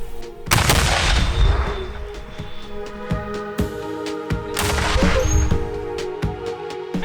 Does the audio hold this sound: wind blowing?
no